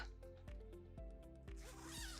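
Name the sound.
zipping up a baby sleep sack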